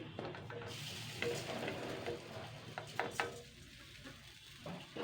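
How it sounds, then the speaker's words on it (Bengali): Spices are stirred with chana dal paste in a pan over low heat, giving a quiet, soft sizzle broken by scraping strokes of the spoon and light clinks against the pan. "হালকা দু মিনিট নাড়াচাড়া করে নেব"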